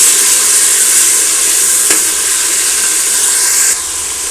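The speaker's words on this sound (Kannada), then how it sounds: "ಸಣ್ಣದಾಗಿ ಹಚ್ಚಿಟ್ಟುಕೊಂಡ ಟೊಮೊಟೊ ಹಾಕಿಕೊಳ್ತಿದ್ದೇನೆ ಇದು ಐದು ನಿಮಿಷ ಫ್ರೈ ಮಾಡ್ಕೊಳ್ಳಬೇಕು" Finely chopped tomatoes fry in a hot pan for tomato bath, giving a loud, steady close-up sizzle and hiss with one brief click partway through.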